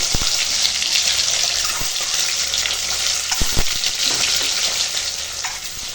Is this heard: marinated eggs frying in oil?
yes